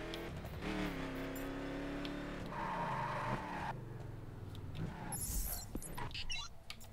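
An Impala car in the video game The Crew drives with a revving engine that rises and falls through gear changes, with tire noise and brief skidding sounds, loud and continuous throughout.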